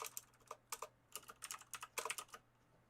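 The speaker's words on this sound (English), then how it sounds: "My keyboard's so fucked these days." Rapid, uneven typing on a worn computer keyboard, bursts of close, quiet clicking keystrokes with short pauses between, heard alone without talk.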